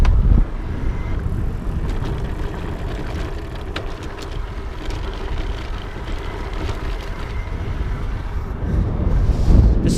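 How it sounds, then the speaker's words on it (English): A Bulls Urban EVO e-bike riding over cobblestone, a continuous broadband rumble with light rattling from the fenders running throughout, fairly loud and close, no talk. "I wanted you to be able to hear the fenders rattling around a little bit."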